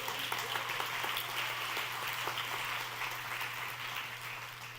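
A church congregation applauds for God, a steady wash of many hands clapping at moderate distance and fairly soft level, sustained evenly throughout with a low hum underneath.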